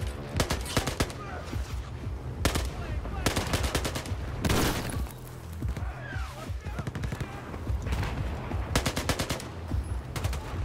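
Automatic gunfire in Battlefield 4 crackles in repeated rapid bursts with single shots between them, loud and close, filling the scene almost continuously.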